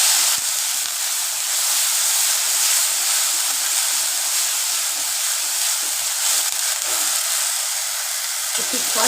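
Onion paste sizzles steadily in a hot pan for pânch phoron chicken, a continuous bright hiss and crackle that stays even throughout with no talking.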